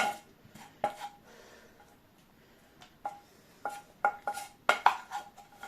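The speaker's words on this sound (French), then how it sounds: "J'enlève un peu le gras qu'il y a dans le fond d'un poêle parce que je n'aime pas ça" Lardons in a frying pan while fat is spooned out: scattered metallic scrapes and clinks of a utensil against the pan, sparse and fairly quiet, with short pauses between strokes and no talk.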